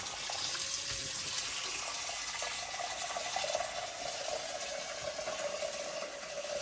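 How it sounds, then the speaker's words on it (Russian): Cold tap water runs steadily into a cooking pot as the base for homemade fish soup (ukha), a continuous close hiss and rush of pouring liquid with no talk over it. "Сначала я наливаю воду."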